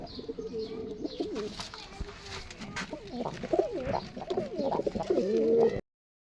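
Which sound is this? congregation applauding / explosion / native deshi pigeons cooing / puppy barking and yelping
native deshi pigeons cooing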